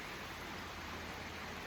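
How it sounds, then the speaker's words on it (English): Rain falls steadily beside the Wild Ammonoosuc River in New Hampshire during gold sluicing, a dense, even hiss of water with no voices and no breaks. "And it's raining pretty good right now"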